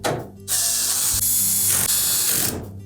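A power driver fastens a support bracket inside a Samsung dryer during repair, a loud close whirring burst of about two seconds with a brief dip midway, alone without talk.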